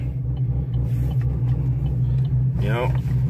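A manual-transmission car rolls away from a stoplight at about 1300 RPM, giving a steady, loud, low engine drone throughout, with a brief rising voice-like sound near the end.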